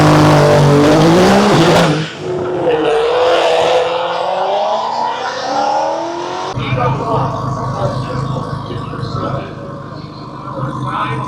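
Nissan GT-R and Mustang 5.0 in a street-car drag race at Rockingham, North Carolina, all-wheel drive against rear-wheel drive: loud engines roar and climb through the gears close by, with a rising wail that fades into a steady distant drone.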